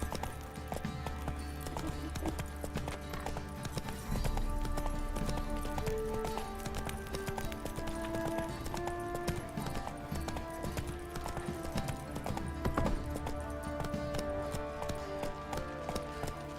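A horse gallops in The Witcher 3: Blood and Wine, its running hooves drumming in a fast continuous rhythm beneath game music and ambient sound.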